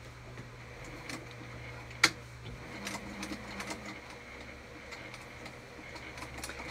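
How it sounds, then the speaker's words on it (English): A sewing machine top stitching along the top of a crossbody bag: a steady, close mechanical whir with fine rapid ticking, one sharp click partway through, and no talking. "now I'm just going to top stitch along the top of here according to the pattern directions"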